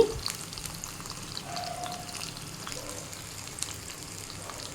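Garlic and green chilies frying in oil along with tomatoes for a mango chutney, a faint, thin crackling sizzle with scattered small pops and light clinks, fairly quiet throughout.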